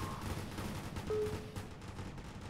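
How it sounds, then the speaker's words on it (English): Gatling guns firing in the tower defense video game Fortification Tower Defense, a dense, continuous rattle of rapid overlapping shots with sharp bursts, steady and fairly loud throughout, with no talking. "the Gatling guns aren't the most accurate weapon, but when you have this many rounds being fired, it doesn't really matter"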